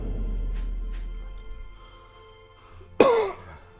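A single sharp cough bursts out near the end after a few seconds of quiet room tone and faint background sounds, loud and close to the mic.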